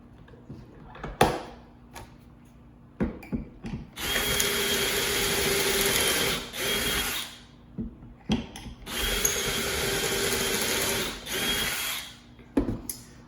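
A drill bores pocket holes into the short sides of a board held in a Kreg Jig, with two long whining bursts separated by clicks and ratcheting clamp adjustments.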